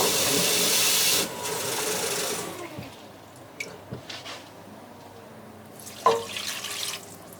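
Water poured from a container into a pot for candied orange peel, a loud splashing gush for about a second, then quieter trickling, knocks and a clunk as the pot is handled.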